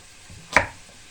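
A single sharp knife chop through celery on a cutting board, cutting it into large pieces, one crisp close thud in an otherwise quiet kitchen.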